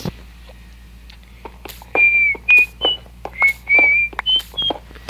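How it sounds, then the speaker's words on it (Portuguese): A person whistles a short tune in several bright sustained notes with brief pauses, close and clear over a low steady background hum. "eu assobio mesmo"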